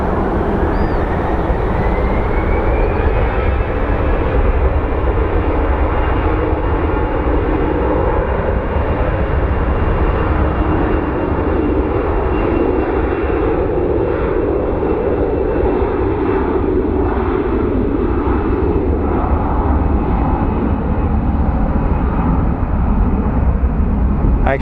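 A fixed-wing airliner takes off at Phoenix Sky Harbor International Airport, a loud, steady jet engine roar holding throughout with a slowly shifting whine, with no voices over it.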